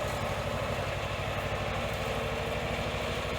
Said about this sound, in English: This is me on the tractor with our flail mower trying to clean up the area a bit.